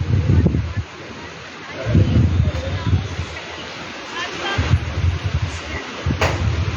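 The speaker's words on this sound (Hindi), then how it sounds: "तेज़ हवाएं चल रही हैं।" Strong wind in Jalandhar roars and buffets the microphone in gusts, a broad rushing noise under a voice speaking over it.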